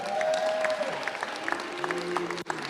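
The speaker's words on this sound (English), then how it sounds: "How about a round of applause for George?" An audience applauds at an event honouring a former Green Bay Packers player, with a dense patter of clapping continuing steadily throughout, no talk.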